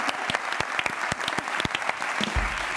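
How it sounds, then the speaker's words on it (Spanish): Studio audience at a Spanish late-night talk show bursts into steady, dense applause welcoming a guest named Ernesto, with a few louder claps and a low thump near the end. "Un aplauso para Ernesto, por favor."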